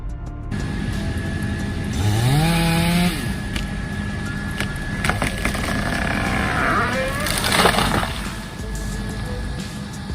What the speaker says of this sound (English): With precise sawing technique, the worker brought down the large tree without causing any damage